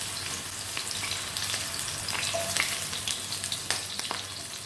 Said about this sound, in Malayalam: ഇതിനകത്തോട്ട് നമുക്ക് വഴുതനങ്ങ ഇട്ടിട്ട് അതൊന്ന് ഗ്രില്ല് ചെയ്തെടുക്കാം.